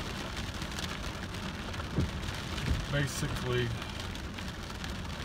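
Heavy rain pounds a very light vehicle during a hailstorm, a dense, loud, steady roar on the body and roof, with someone speaking briefly over it partway through.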